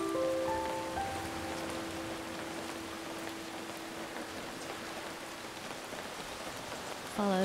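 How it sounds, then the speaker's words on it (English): Steady rainfall in the video game Feather, a constant soft hiss of drops with a few gentle musical notes fading out at the start. "We need the apparent rain to stop and the sun to come out"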